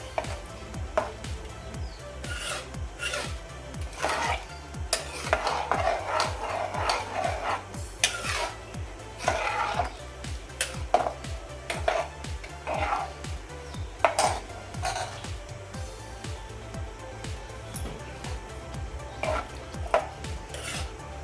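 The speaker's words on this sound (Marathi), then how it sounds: "आता हे व्यवस्थित असं मिक्स करून घेऊयात" Guar bean curry with crushed peanuts is mixed in a pan, producing continuous rhythmic scraping and clinking of a spoon against metal, close and steady for a long stretch.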